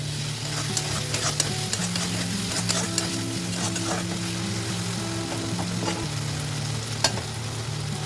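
Spice masala and tomatoes frying in oil for a rohu fish curry, giving a continuous close sizzle with steady stirring and occasional light scrapes of the spoon against the pan.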